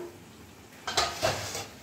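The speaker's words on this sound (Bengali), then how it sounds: "এবার কড়াইয়ের ঢাকাটা খুলে দিলাম।" A lid comes off a kadai of simmering green paneer gravy with a brief metallic clatter, two quick clinks over a soft background hiss.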